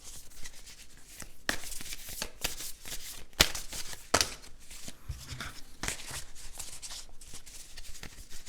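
Playing cards shuffled and riffled up close for a card reading, a continuous papery flutter and rub with several sharper snaps along the way, no talk.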